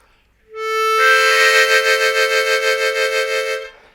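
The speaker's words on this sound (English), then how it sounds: "that 3 draw is going to transition by slowly opening your mouth to a 3, 4, 5 draw chord" A Bb harmonica plays a blues move: a single 3 draw note bends and opens into a 3-4-5 draw chord, held with a pulsing vibrato before cutting off, played alone.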